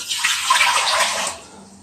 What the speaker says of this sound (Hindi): तो यहाँ पे हमने एक बर्तन ले लिया, उसमें हम पानी डाल देंगे